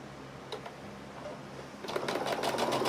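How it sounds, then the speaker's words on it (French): A sewing machine stitches two fabric pieces together, starting with a quiet hum and a few clicks before the needle picks up into a faster, steady chatter that grows louder over the last second, close by and alone. "on va les coudre 2 par 2 et ensuite le tout"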